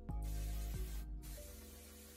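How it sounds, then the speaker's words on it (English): An oil mist is sprayed lightly onto blow-dried natural hair, a close, soft, continuous hiss that pauses briefly before resuming. "I'm just gonna spray my hair very lightly"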